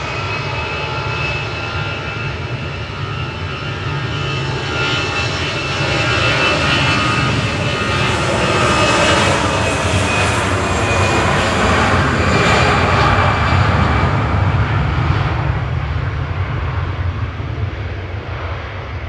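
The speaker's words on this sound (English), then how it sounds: "That was EasyJet to Bilbao, EZTY departing with flight 2005." An EasyJet jet airliner departs Manchester Airport for Bilbao, its engines a loud, sustained roar that swells and holds steady for nearly twenty seconds before starting to ease, with no voices over it.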